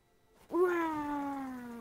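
A single drawn-out cat meow in a video game, clear and tonal, rising sharply then sliding slowly downward over more than a second against near silence.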